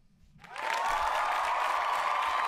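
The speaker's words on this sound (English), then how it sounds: "Crowd goes wild." A crowd bursts into applause, clapping swelling up in about half a second and then holding at a loud, steady level to the end, with no voices over it.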